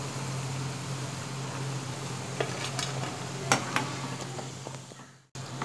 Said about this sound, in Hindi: ये देखिए इसी तरह हमें सारे पकोड़े फ्राई करने हैं।